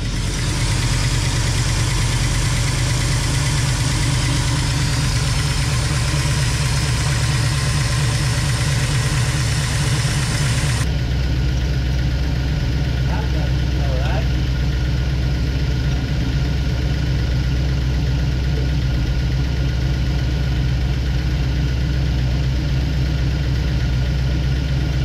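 A rat rod wrecker's engine idles steadily after a lifter adjustment, a loud constant low rumble with a brighter hiss that cuts out partway, leaving the deeper idle running alone.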